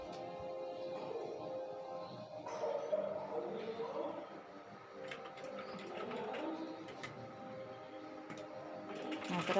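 A sewing machine stitches baby frock fabric, running in quiet bursts with a soft mechanical whir and ticking needle rhythm, starting and pausing as the cloth is guided, fairly faint and close.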